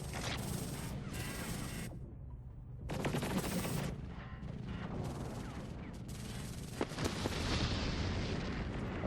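Missile volleys launch in an Endless Space 2 space battle, loud bursts of rapid firing and explosive whooshes in clusters separated by brief lulls, dense and close with rumbling blasts throughout.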